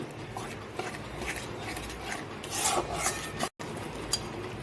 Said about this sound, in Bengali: টক দই দিয়ে আমি ভালোভাবে নাড়বো, কেটে যেতে পারে।